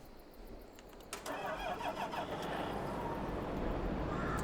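In Farming Simulator 22, a John Deere tractor engine cranks briefly and catches, then settles into a steady, loud running rumble.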